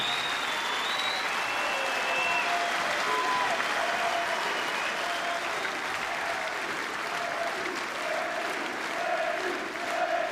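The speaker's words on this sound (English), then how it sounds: "Please give them a tremendous applause for 12 tremendous rounds of boxing." Crowd applause at a British 140lb title boxing match after twelve rounds, a sustained dense clapping and cheering in a large hall, with a few voices calling out above it.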